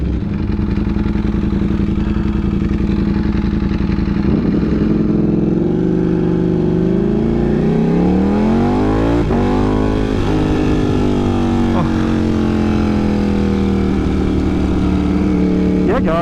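A Ducati Panigale V4 motorcycle with an aftermarket exhaust revs up and down close by, its engine note rising and falling with sharp pops and crackles between the revs.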